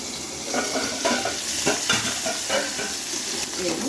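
Cauliflower florets fry in a pan over lowered heat, giving a steady, close sizzle with scattered crackles and occasional stirring scrapes, no voices.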